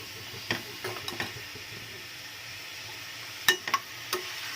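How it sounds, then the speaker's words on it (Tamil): Chicken pieces for a Tamil chicken gravy being mixed and sautéed in a pan: a soft, steady sizzle underneath scattered light spoon clicks and scrapes, quiet and close. "இப்போ நல்லா கொஞ்சம் மிக்ஸ் பண்ணி விடுங்க."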